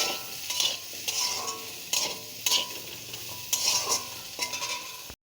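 Vegetables sizzle in a pan while a spoon stirs and scrapes through them in bursts of clatter, a steady frying hiss underneath, with salt added partway.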